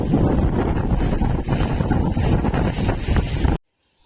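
Loud, steady roar of wind and rain battering the microphone, continuous for a few seconds before stopping abruptly.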